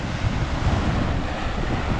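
Surf rolls onto a pristine wild beach by Delaware Bay in a continuous low wash, mixed with steady wind rumble on the microphone and no voices.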